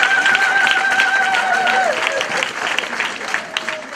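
A church congregation claps and cheers in praise of the Lord for the children, a dense wash of applause filling the room with voices mixed in throughout.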